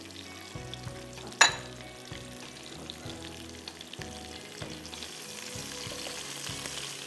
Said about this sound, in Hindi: काजू फ्राई हुए हुए हैं लेकिन मैं जल्दी जल्दी कर लेती हूँ, प्याज, कश्मीरी लाल मिर्च